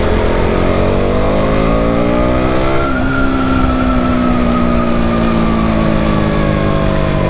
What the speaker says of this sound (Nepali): केटिएमको हरेक बाइक मजा आउँछ भगाउन